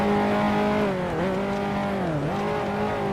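Loud 1955 Formula One race car engines, including a Maserati, roaring at Monaco in Grand Prix Legends, a steady high-revving whine that dips twice as the cars brake and shift, then climbs again, with no talk.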